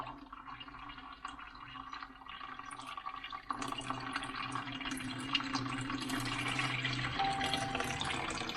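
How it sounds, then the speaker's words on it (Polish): Water runs and splashes steadily from a tap while rinsing larvae, growing louder and fuller midway as the flow increases, with no voices. "czekamy tak długo, aż woda nie zacznie lecieć całkiem czysta"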